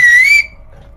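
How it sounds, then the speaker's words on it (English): A single person whistling one short, bright, slightly rising note that cuts off abruptly, close and loud. "That was a really good whistle."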